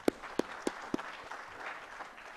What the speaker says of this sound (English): Again, another better clap.